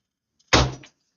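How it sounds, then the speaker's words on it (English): A door swings shut in one loud, close thud with a short rattling tail, alone after a brief silence. "I'm going to count to three, and then I'm closing the door."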